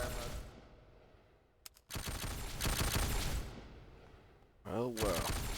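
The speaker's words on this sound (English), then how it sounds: "There's also a burst fire mode." Burst-fire shots from a blaster in Gmod Star Wars RP, short loud volleys separated by brief gaps, with someone talking over the end.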